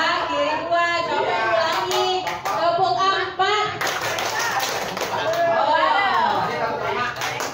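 A school class plays a counted clapping game, bursts of sharp hand claps in short groups of one to four, with a teacher's voice and children's chatter between and over the claps.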